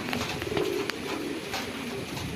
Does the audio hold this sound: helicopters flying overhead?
no